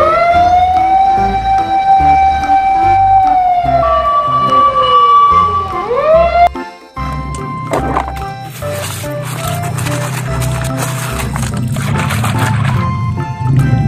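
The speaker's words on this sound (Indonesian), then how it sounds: "Mobil pemadam kebakaran teman-teman." Toy fire truck sounding a wailing electronic fire engine siren, loud and close, rising and falling for several seconds, then changing after a short break to a busier, clattering siren and noise pattern.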